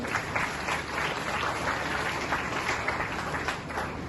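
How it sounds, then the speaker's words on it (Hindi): Audience clapping steadily in a hall after a quiz-style event, a dense, even wash of many hands sustained through the whole stretch at moderate loudness, with no talk over it. "जोरदार एक बार ताली बजा लो भैया"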